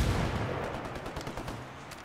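Gunfire from the video game Ghost Recon: Wildlands, with a rapid burst of shots that trails into scattered pops at moderate distance. No voices are heard.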